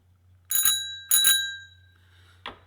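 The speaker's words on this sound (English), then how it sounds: "Where's my bell?" A bicycle bell rings twice in quick double chimes, bright and metallic with a ringing decay, followed by a softer third tap, close by over a faint low hum.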